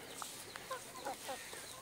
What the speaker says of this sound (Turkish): Plymouth tavuklarımız holalara dolanıyor artık